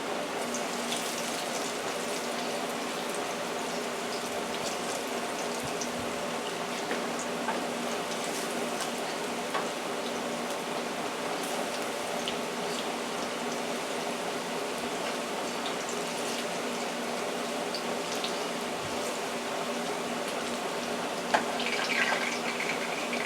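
Plantains fry over a hot flame in a pan, giving off a steady, even sizzle and soft bubbling that holds throughout, with a few faint clicks near the end.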